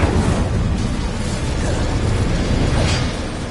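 Bombarda explosion spells cast in the video game Hogwarts Legacy, interleaved with Incendio fire spells, produce a dense, loud, sustained blast and rumble that fills the whole stretch with no speech over it.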